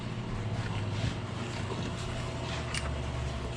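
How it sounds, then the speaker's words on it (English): A Mercury Optimax outboard boat engine approaching over open water, a steady low drone rising gradually under wind noise, still fairly distant and unhurried. "I hear an Optimax."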